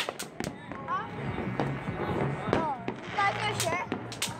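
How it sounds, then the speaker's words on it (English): Fireworks crackle and pop in rapid, irregular bursts at a moderate distance, with people talking amid the explosions. "firework there, firework there, there, firework everywhere"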